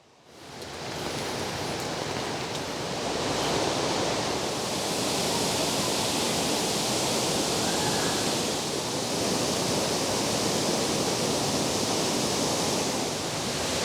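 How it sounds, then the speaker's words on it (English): Lower portion of Killin Falls near Brisbane, a continuous broadband roar of falling water, steady and fairly close, swelling in after a quiet start and holding without a break. "we just came to the lower portion of the falls, of Killin Falls"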